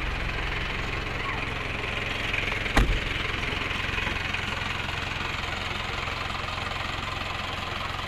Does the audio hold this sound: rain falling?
no